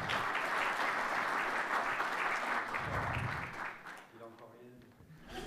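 Brief applause from a small audience at a talk in Saint-Martin in the Gers, greeting a newly arrived guest: steady mid-level clapping for about four seconds that thins out and fades, with a voice speaking over it.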